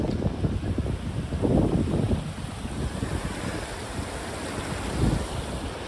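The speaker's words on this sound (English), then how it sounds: "Look at, there's water coming every direction." Monsoon floodwater rushing across open ground near a pond in Arizona, a steady broad wash of moving water with gusty wind noise, surging louder around the second and fifth seconds, no voices.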